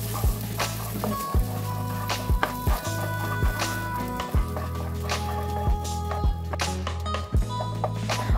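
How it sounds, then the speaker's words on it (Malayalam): Roasted gram (pottukadala) sautéed in ghee in a pan, with a low steady sizzle and regular scraping strokes of a stirring spoon every second or so, close and alone. "ഇനി ഈ നെയ്യിലിട്ടിട്ട് നമുക്ക് നന്നായിട്ടൊന്ന് വഴറ്റിയെടുക്കാം"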